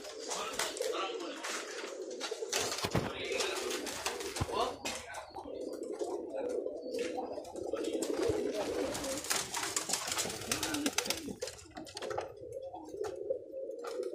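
Pigeons coo steadily in low repeated phrases, with flapping, scuffling and some indistinct chatter mixed in throughout.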